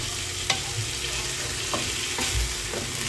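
Taro stems are sautéed in a pan with ground black pepper, giving a steady close sizzle with a few soft scrapes and taps from stirring.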